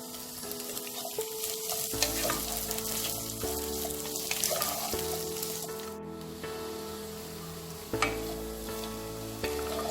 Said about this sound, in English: Saute the vegetables for 2 minutes.